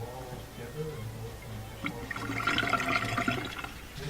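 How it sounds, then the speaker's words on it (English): Water gushing and splashing from a Bosch Ecosense dishwasher's drain pump, steady at first and then louder and rushing, with someone talking over it. "You can see the water shooting out."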